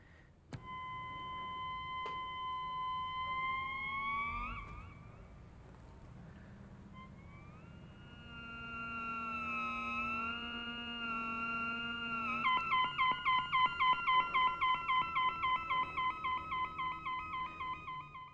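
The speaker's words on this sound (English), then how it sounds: "And now the miniature optical theremin." A miniature optical theremin plays electronic whining tones sliding and wavering in pitch, steady sustained buzzy notes that bend up and down, then a rapidly pulsing stuttering tone toward the end.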